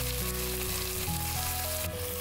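A salmon fillet laid into coconut oil in a hot frying pan gives a steady, close sizzle, with soft tonal music running underneath.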